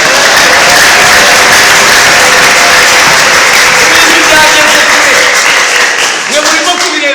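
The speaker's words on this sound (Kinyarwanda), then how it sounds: "mwakomeye Imana amashyi mugakora." A church congregation applauding, loud dense clapping throughout with a crowd murmur under it and a voice speaking over the top.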